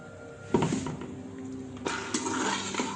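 A pressure cooker holding beef for yakhni pulao is opened after its pressure has been released, giving metallic lid clanks and clinks, one sharp knock followed by softer rattles and a second burst of handling, close by and with no speech.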